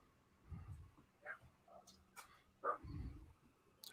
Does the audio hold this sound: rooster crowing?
no